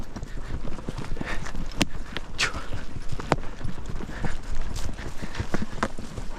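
Horses ridden while herding cattle clip-clop steadily and close by, their hooves landing in a continuous uneven patter with sharp individual strikes over a constant outdoor background.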